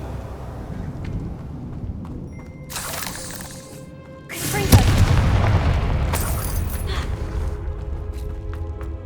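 A fire spell bursts in Hogwarts Legacy, a loud booming explosion near the middle that gives way to a sustained crackling roar over continuous game ambience.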